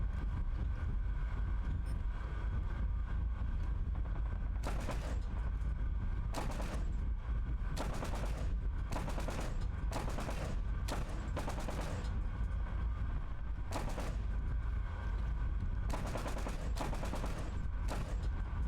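Aircraft machine guns fire in repeated bursts during a War Thunder cockpit-view dogfight, loud against a steady engine drone, with about ten short volleys spread across the stretch.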